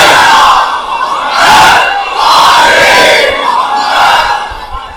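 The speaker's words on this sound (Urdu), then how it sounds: "جتنا بلند اور دل سے ممکن ہے صلوات ہدیہ کریں" A large crowd at a Muharram majlis gathering recites salawat loudly in unison, a massed roar of voices that swells and falls in several long waves.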